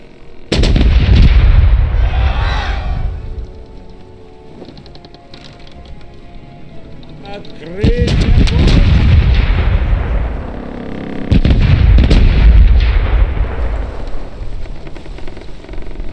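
Heavy ship cannon blasts in the pirate game Corsairs Legacy boom out in three loud bursts, each rolling into rumbling echoes, with quieter crackling gunfire between them.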